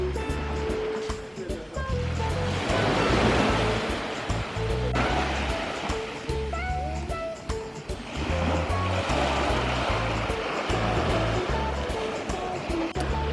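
Ocean surf rolls onto the beach at Beaches Ocho Rios in Jamaica, a steady wash of breaking waves that swells and recedes in broad surges, with faint wind and distant voices mixed in.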